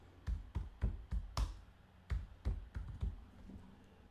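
Close, quiet keystrokes on a computer keyboard as a name is typed in, about a dozen taps in an uneven rhythm with a slightly louder press near the middle, no voice.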